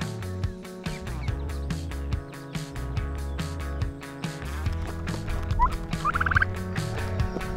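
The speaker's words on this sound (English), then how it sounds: "And the really fun animal to let out are these turkeys, these broad-breasted white turkeys." Broad-breasted white turkeys gobble in a farmyard during morning chores. The gobbling comes in short bursts that grow busier near the end, mixed into steady, rhythmic background music.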